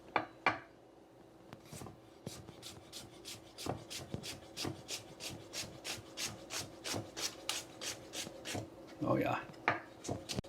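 A knife slicing an onion thin for potato salad on a board, steady rhythmic cutting strokes repeating close up, with someone talking at times over the cuts.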